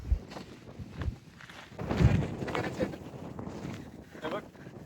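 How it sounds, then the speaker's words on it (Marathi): Strong gusts buffet the microphone in low rumbling bursts on Sinhgad Fort, a hilltop fort in India, with faint voices underneath and a louder blast midway. "वारा बघ वारा"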